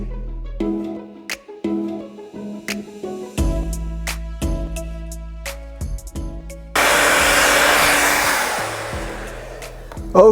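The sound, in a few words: hair dryer drying medium-length hair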